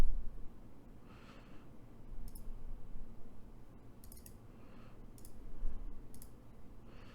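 A computer mouse clicks a handful of times, sharp isolated taps spaced a second or so apart over a soft steady hiss, with no voices.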